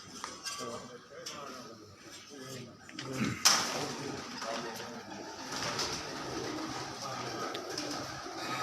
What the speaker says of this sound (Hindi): और ये जो फिरोज़े कबूतर हैं इनके